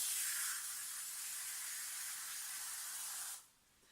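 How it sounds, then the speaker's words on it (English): Liquid starch spritzed from a spray bottle into a bowl gives a close, bright hissing burst lasting about three seconds, then cuts off abruptly into quiet. "shake it up a little bit, spray it into your bowl."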